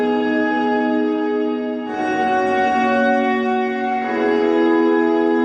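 Sustained guitar whole notes ring through a Big Sky reverb pedal set fully wet, so only washed-out, distant-sounding reverb is heard as one chord swells and shifts to another.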